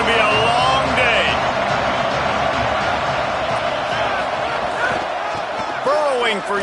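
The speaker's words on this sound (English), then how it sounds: "This crowd, full throat, spreading the eardrums" Football stadium crowd at a Duke game, a dense continuous roar filling the whole stretch with whoops and shouts rising through it, while a commentator talks over the noise.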